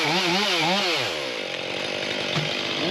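A chainsaw cuts into a giant poplar being felled, its engine loud and close with a revving, wavering pitch before settling into a steady rasping cut.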